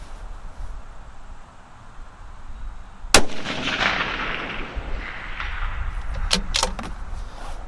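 A precision rifle fires a single loud, sharp shot of new Alpha G6 GT brass cartridges. A rolling echo lingers for several seconds, with faint clatter afterward and no talking.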